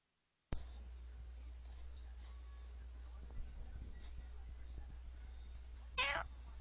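A single short cat meow near the end, close and fairly clear over a steady low hum and quiet room noise.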